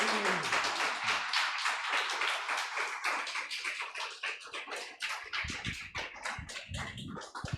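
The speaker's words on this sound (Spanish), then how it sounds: "¿Por qué no le da un fuerte aplauso al Señor" Church congregation giving a loud, sustained round of applause, dense clapping from many hands filling the room without pause for several seconds.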